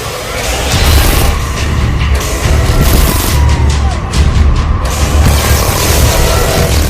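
Missiles firing and exploding in an animated film, a loud dense barrage of booms and blasts filling the whole stretch, with bright crackling bursts midway.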